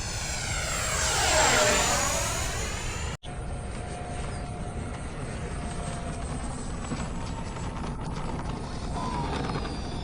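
A small airplane's propeller engine drones steadily and loudly in flight over Fritz Field, the pitch sweeping before settling into a constant hum with faint voices under it.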